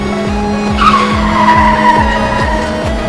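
A car skids to a stop as a sound effect, a loud, close tire screech sliding downward in pitch over a rapid, rhythmic engine or road rumble, lasting about three seconds with no voices.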